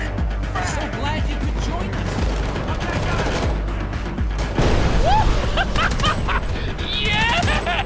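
Gunfire crackles in dense bursts during a firefight in Homefront: The Revolution. Dogs bark throughout and voices shout over the shooting.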